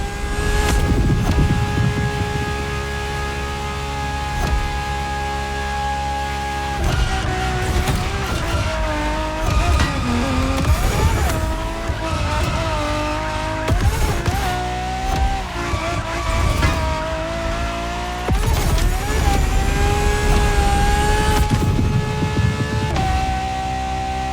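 A Ferrari LaFerrari hybrid supercar in the racing game The Crew Motorfest howls through rising revs and abrupt gear changes, with tire squeals and skids cutting in amid the loud, continuous engine roar.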